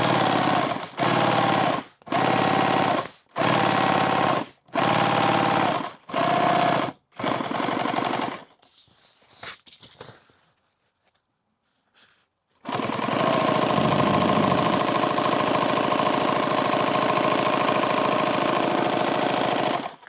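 A sewing machine hems a half-inch edge on fabric for a bandolier, running in several short loud bursts with brief pauses, then a quieter gap, then one long continuous stitching run.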